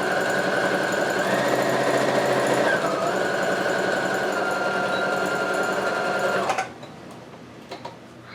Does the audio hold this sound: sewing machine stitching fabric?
yes